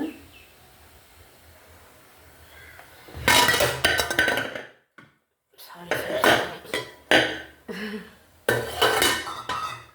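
A metal pot and dishes clink and clatter in bursts as a lid is lifted to check steamed kozhukattai. The knocks are close and loud, separated by short quiet gaps, and a voice speaks in the background.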